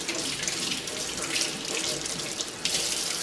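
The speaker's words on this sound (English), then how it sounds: "That was quite an entertaining hand washing I just had there." Hands are washed under a steadily running tap, water splashing into a sink in a close, continuous hiss with slight changes as the hands move through the stream.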